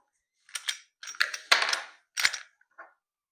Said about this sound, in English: I'm going to clear my gun.